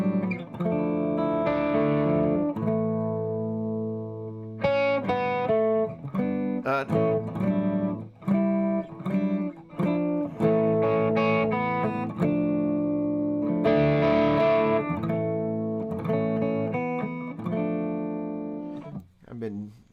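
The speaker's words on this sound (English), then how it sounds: "you hear a little bit more of the strings when you don't have delay and reverb" Dry electric guitar notes and chords ring out one after another, plucked strings clear and close with short pauses between phrases, no echo trailing behind.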